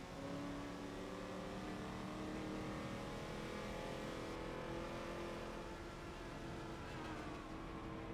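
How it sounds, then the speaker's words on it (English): A B-class race car engine in the video game Forza revs continuously at high pitch on the Bernese Alps track, a loud, steady whining roar with slight pitch wavering, no voices. "You hear him revving his engine and going absolutely nowhere"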